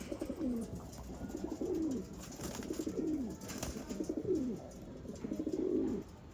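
Pigeons from a breeder's stock in Bangalore coo in a steady series of soft, throaty calls repeating about once a second, close by over a low background hum, with no voices.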